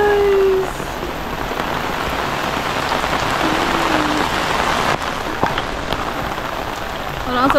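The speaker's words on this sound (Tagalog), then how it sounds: "Grabe, lakas ng ulan mga kangiti, oh." Heavy tropical rain pours down during a storm, a loud dense hiss of drops hitting surfaces that stays steady throughout, with faint brief voices now and then beneath it.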